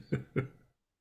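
Two quick, close coughs in a row, then silence.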